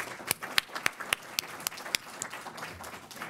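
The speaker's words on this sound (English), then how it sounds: "So give yourselves a round of applause." A small audience at a regional life science industry meeting gives a scattered round of applause, a dozen or so distinct claps spread unevenly across a few seconds, moderately close and fairly faint.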